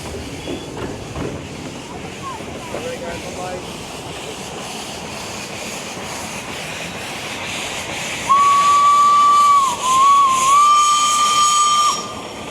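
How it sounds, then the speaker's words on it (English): A tour steam train's whistle blows loudly for several seconds with a brief dip, over the rumble and hiss of the moving train with faint voices earlier, at a Caribbean sugar estate. "as the train goes around the lake"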